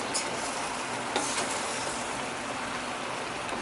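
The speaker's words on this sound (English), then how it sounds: "So you put about a big tablespoon in there and you mix it in." Chickpea miso paste stirred into ratatouille in a pan, a dense, even sizzling hiss with soft wet stirring and a couple of small clicks, steady for a few seconds.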